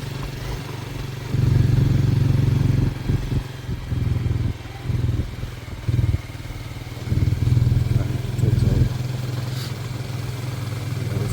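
A motorcycle makes its way along a slippery road wetted with water, the close engine throbbing steadily and swelling in repeated bursts of throttle between quieter idling stretches.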